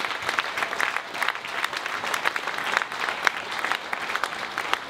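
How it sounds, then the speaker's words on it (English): A round of applause from an awards ceremony audience for progressive rock music, a steady field of many hands clapping with distinct sharper claps poking through, fairly loud and continuous. "So please, a round of applause to all of you."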